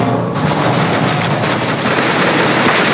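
Rapid gunfire from the video game CS:GO, a dense, loud, steady wash of shots and bursts filling the whole stretch with no quiet gaps.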